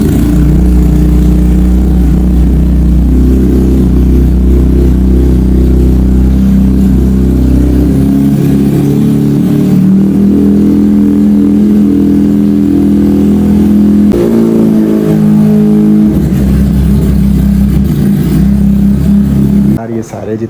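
Several motorcycles, Kawasaki Ninja superbikes among them, start and rev together inside a bike showroom, a loud steady low engine drone with rising revs throughout, while someone talks over it.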